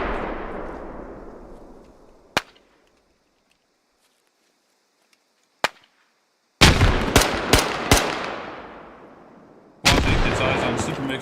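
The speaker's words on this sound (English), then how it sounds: "Super Mix throws a couple nades." Gunfire and grenade blasts in a multiplayer shooter match: a couple of isolated sharp shots, then a dense volley of close, loud bursts and booming detonations that ring out and decay, with a final heavy blast.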